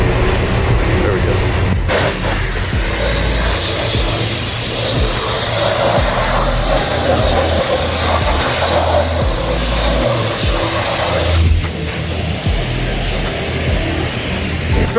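Pressure washer spraying mud off a truck near the engine, a loud steady hiss and rush of water running continuously with slight shifts in tone, close by and dominating throughout.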